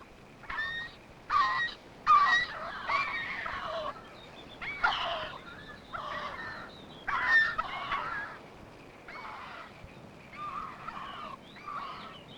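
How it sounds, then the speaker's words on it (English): Chatham Islands skua calling repeatedly, a series of harsh honking, goose-like calls in irregular bursts over about twelve seconds, fairly close and clear against quiet background. "The Chatham Islands skua."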